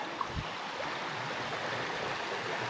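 Spring runoff seeping and trickling down a wooded side slope beside a hiking trail, a constant close wash of running water with one small knock near the start, no voices.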